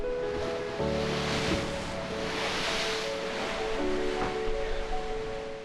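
Rough ocean waves crash and wash against rocky shore, a continuous broad roar of surf with swelling surges, moderately loud and steady with no voices.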